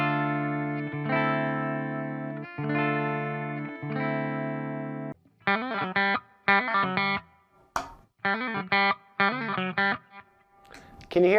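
A Charvel Satchel guitar with Fishman Fluence pickups in the second voice rings out through an EVH amp on the clean channel, first with sustained strummed chords, then short choppy stabs, played alone and close with slight reverb.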